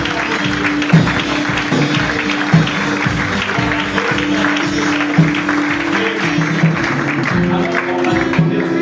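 A church congregation claps through the whole stretch, steady and fairly loud, with a crowd murmur and a low sustained musical hum underneath.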